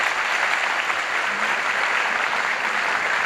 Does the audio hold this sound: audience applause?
yes